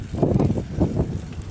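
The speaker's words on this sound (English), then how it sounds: "Dang, this wind is strong." Strong gusty wind buffets a rider going slowly outdoors, a rough low rumble swelling and fading in uneven bursts close to the microphone.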